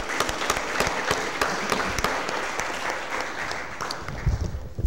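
A Board of Aldermen meeting gives a round of applause to welcome a new member named Mike, the clapping close and continuous with distinct sharp claps, fading out toward the end amid some rustling.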